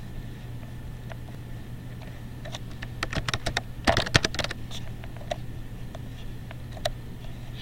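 Computer keyboard typing a document title, with irregular bursts of clicking keystrokes that cluster into a denser flurry midway, steady and close, with no talk over a constant low hum.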